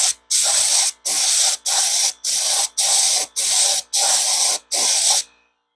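A paint gun sprays primer onto terracotta outdoors in nine loud, close hissing bursts of roughly half a second each, separated by brief gaps, then stops.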